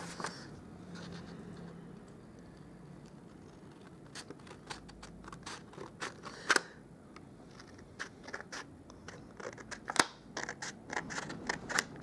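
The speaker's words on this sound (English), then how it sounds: "So I'll just grab my paper snips and I'll just trim" Paper snips trimming vellum cardstock close up, a series of crisp, irregular snipping clicks scattered over a quiet background, louder cuts standing out near the middle and end.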